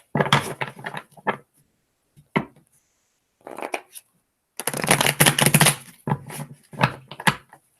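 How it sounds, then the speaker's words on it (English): Tarot cards are shuffled close up in several bursts of crisp riffling and patter, separated by short silent pauses. "Three more shuffles."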